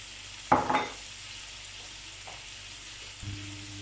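Onions go into a hot pan for a quick tagine, giving a brief burst of frying sizzle and stirring that fades fast, followed by a quiet pause and a low clatter near the end.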